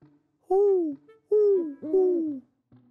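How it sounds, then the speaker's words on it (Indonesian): Three deep, rounded hoots from a spectacled owl at a zoo, close and clear, separated by brief silences, with a faint softer call at the end. "Ya, itu burung hantu."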